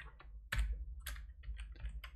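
Rapid bursts of typing on a computer keyboard, uneven clusters of keystrokes close to the microphone with no talking.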